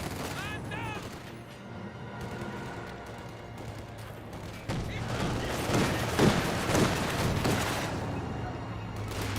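Rifle volleys ring out in the World War II strategy game Company of Heroes 2 as conscript infantry squads exchange fire. The shots come in layered bursts with booms mixed in, over a commentator talking throughout.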